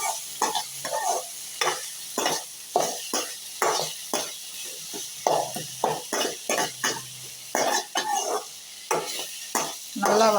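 A spoon scrapes and stirs in rhythmic bursts through a pan of chopped tomatoes, onions and green chillies, salted as they sauté for ragi semiya kichadi. A soft sizzle runs underneath, and each stroke clacks sharply against the pan.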